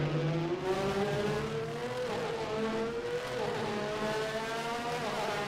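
A 1988 Formula 1 car in rFactor 2 on the Canadian circuit, its high-revving engine whining steadily close by as the pitch climbs and dips through gear changes and corners, with no talking.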